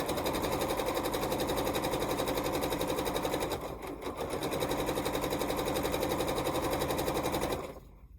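A sewing machine stitches across quilt block seam allowances in a fast, even mechanical rattle, close and steady, with a brief slowdown midway before stopping near the end.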